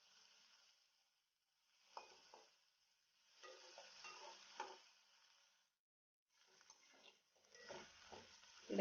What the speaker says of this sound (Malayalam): ഈ ഇഞ്ചി എണ്ണയിൽ കിടന്ന് നല്ലതുപോലെ ഒന്ന് മൂക്കണം.